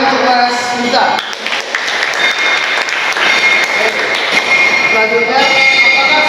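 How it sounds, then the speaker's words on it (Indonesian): Classmates in an automotive engineering teacher-training class clap for a student who answered correctly: a dense, fairly loud patter of hand claps filling the room, with talking mixed in. "Bagus, tepuk tangan untuk Mas Minta."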